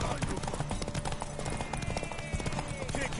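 Horse hooves clip-clop steadily in the video game The Witcher 3: Wild Hunt, a rhythmic trotting beat under loud in-game speech and background game sound.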